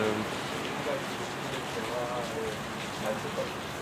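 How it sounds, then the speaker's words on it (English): Rain falls at a lake, a steady, soft hiss of drops on water and surfaces with faint scattered patters, moderately close and unbroken throughout. "so I'm watching the rain"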